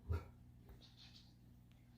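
A dog gives one short, fairly loud bark near the start, followed by faint whimpering and yips over a low steady indoor hum.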